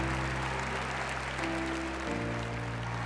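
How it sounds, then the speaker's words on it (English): Audience applause at the Eukanuba World Challenge dog show, a continuous wash of clapping from a large arena crowd layered over a steady low hum and tonal background sounds, with no voice on top. "And a well-deserved round of applause for the European champ."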